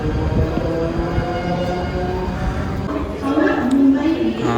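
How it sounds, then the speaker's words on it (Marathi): A steady low rumble and rattle of a slow local train in motion toward Dadar, Mumbai, close and continuous, with a few faint tones rising near the end. "आता स्टेशनला ट्रेन पकडू स्लो ट्रेन आहे ती पकडून मग जाऊ"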